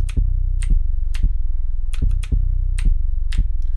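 An 808 bass line with a broad stereo sound plays a pattern, deep sustained notes with clicky attacks roughly every half second, loud and alone with no talking.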